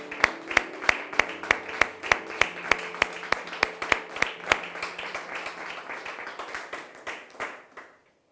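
A congregation claps in rhythm, a steady run of sharp hand claps that fills the space before it thins out and fades near the end, with no voices over it.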